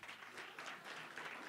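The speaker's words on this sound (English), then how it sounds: "A round of applause for him." Soft, distant audience applause at a blockchain thought-leadership media event, greeting a guest joining virtually; faint and steady for a brief moment.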